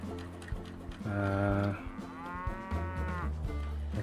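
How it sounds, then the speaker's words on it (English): Cows moo in the Railway Empire video game, two long low bellows one after another, clear and fairly close over a quiet game soundscape. "I still hear cows in the background."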